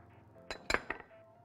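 A small spoon clinks against a bowl while honey is added to warm water and yeast, three or four light, close metallic taps in quick succession over quiet kitchen background.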